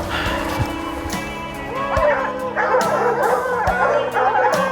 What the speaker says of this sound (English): Dogs are chasing